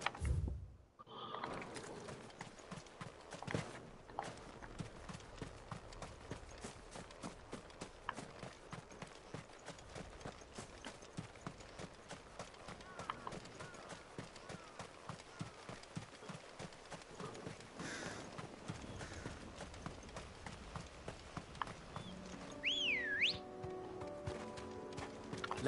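Rapid, steady hoofbeats of a galloping horse in the video game Final Fantasy XVI, continuous and fairly close, with a brief high whistling tone near the end.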